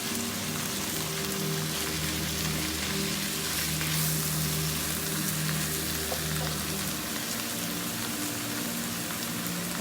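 Drumstick (moringa) leaves cook in a pan with a steady, close frying sizzle that runs for the whole stretch, and there is no talking.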